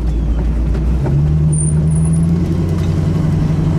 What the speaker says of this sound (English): This is what this car just does best. Cruising. Low speed cruising.